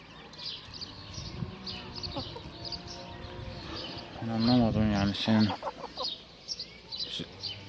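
A hen clucks and murmurs in a coop, a short run of close, rising clucks in the middle amid softer scattered calls and a low voice.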